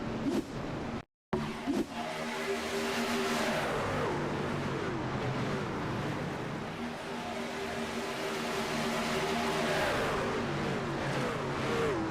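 Racing trucks in a video game at Daytona, engines droning and revving continuously at close range, several vehicles blending into a steady roar with a brief cut of silence near the start.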